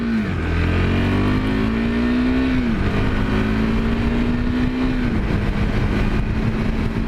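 A new 390 motorcycle accelerates through the gears, engine note rising in pitch, dropping at each shift and climbing again, loud and close over steady road and wind noise.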